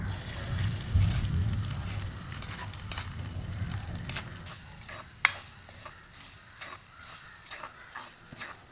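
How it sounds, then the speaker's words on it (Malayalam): Grated coconut roasting in hot oil in a pan over a wood fire, a soft continuous sizzle and crackle, louder at first and then settling with occasional sharp ticks and pops. "അതിനായി നമുക്ക് തേങ്ങ വറുത്തെടുക്കാം"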